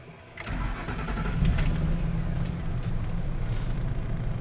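A truck engine with a misfire and a lean condition idles close by, a loud steady rumble that turns over near the start and then settles into a rough, continuous run.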